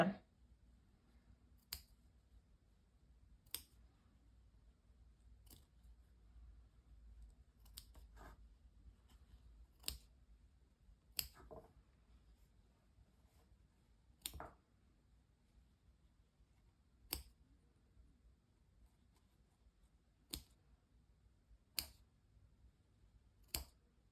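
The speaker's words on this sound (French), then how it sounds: "Pour que ça devienne un point velours, il faut vraiment venir couper chaque petite bouclette." Scissors snip through punch needle yarn loops to turn them into velvet pile, giving about a dozen crisp, faint cuts at irregular intervals over a quiet background.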